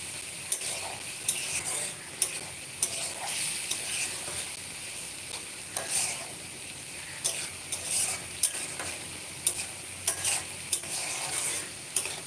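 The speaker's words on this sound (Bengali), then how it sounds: "আমি দিয়ে দেবো কেটে রাখা ছোটো করে কেটে রাখা আলুগুলো এটা দিয়ে আবার আমি নেড়ে ফেলে দিচ্ছি" Chopped potatoes being stirred into frying jackfruit curry, continuous sizzling with regular sharp clinks and scrapes of a spoon against the pan, close and without speech.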